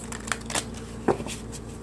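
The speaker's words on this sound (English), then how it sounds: "Last shuffle for Pisces." Soft papery riffling of a tarot deck being shuffled, a few quick flicks and taps close up in a quiet room.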